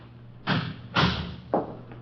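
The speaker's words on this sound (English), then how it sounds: "Close the door there." Three dull thuds from a door being closed in an old radio-style police drama, one after another, close and fairly loud, with the last one lighter.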